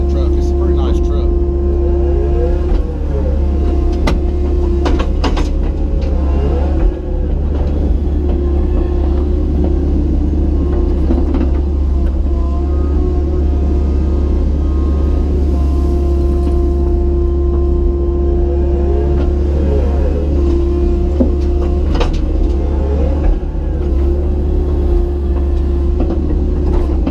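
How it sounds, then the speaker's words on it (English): A new Mack dump truck hauling riprap on a pond ditch job site runs with a loud, steady low engine rumble and a constant droning tone, with occasional clunks over the top. "hauling the riprap in on the new Mack, which I have not ever showed y'all yet"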